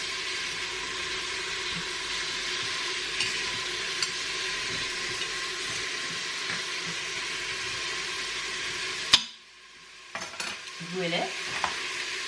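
Pieces of filet mignon brown in a frying pan with a steady, close sizzle and occasional stirring clinks. The sizzle cuts off abruptly near the end, followed by brief scraping sounds.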